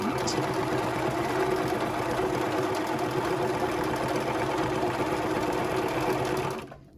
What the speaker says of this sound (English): put my feed dogs down and change my stitch width, so I'm not on zigzag setting anymore, but now I'm on 0 for a straight path